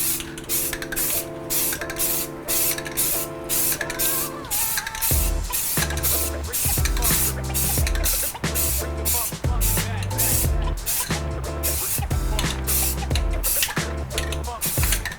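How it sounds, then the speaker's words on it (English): A spray paint can lightly spraying a wheel during a curb rash repair, a run of short hissing bursts with brief gaps between them, close and fairly loud, with a mechanical hum underneath early on. "I'm gonna do a couple light sprays"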